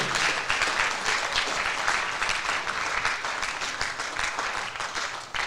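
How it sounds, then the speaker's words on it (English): A crowd at a fall school sports awards ceremony applauds the cheerleaders, a dense, sustained wash of clapping that holds steady for several seconds before tapering slightly. "How about a big round of applause for our cheerleaders?"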